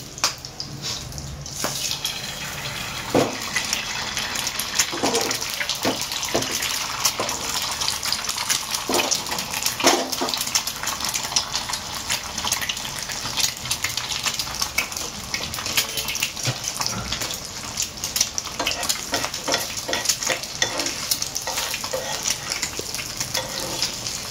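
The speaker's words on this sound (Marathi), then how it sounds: "दुसरा अंडा पण टाकतोय आपण" An egg frying in a pan, a steady broadband sizzle running throughout with scattered crackles and pops, fairly close and loud, with no talking over it.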